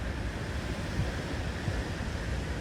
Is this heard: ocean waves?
yes